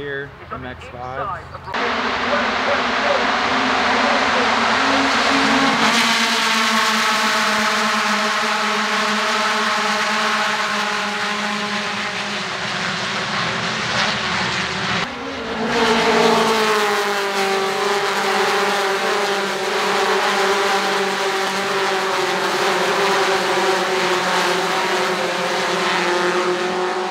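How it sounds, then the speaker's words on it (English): Several Mazda MX-5 Cup race cars roar past at close range at Mid-Ohio, engines droning loudly and continuously with shifting pitch as they accelerate and pass. "Mazda race coming up right here,"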